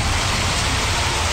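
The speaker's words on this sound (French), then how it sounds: "Bombe à pluie, vas-y!" Rain bomb effect in Final Fantasy XV's Platinum Demo, a dense, steady hiss of heavy rainfall pattering on surfaces, loud and continuous with a low rumbling undertone and no talk.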